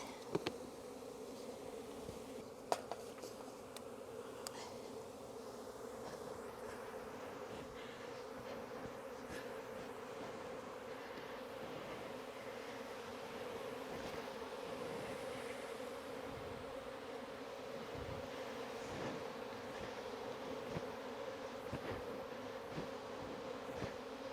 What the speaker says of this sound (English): I'm going to see if I can get this out very slowly and shake the bees that are in here into the box.